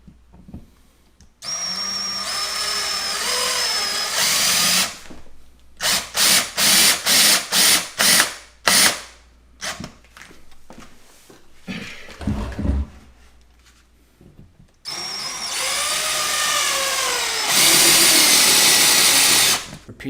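A power drill drives screws into a wall to hang pictures: loud whining motor runs at the start and end, with a middle stretch of short repeated trigger bursts and some clattering. No talk.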